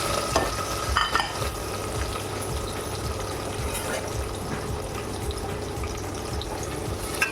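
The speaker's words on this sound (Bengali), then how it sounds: "আর একসঙ্গে দিয়ে দেবো আমি কাজু বাদাম আর কিশমিশ। একটু ভেজে নেব।" Ginger paste, cashews and raisins fry in a pan with a steady low sizzle and occasional stirring scrapes, close by, with no one speaking.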